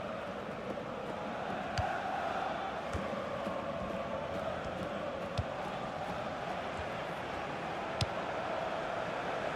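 A stadium crowd in FIFA 16 football keeps up a steady, broad roar of cheering throughout, with a few sharp thumps of ball kicks cutting through the continuous wash of noise.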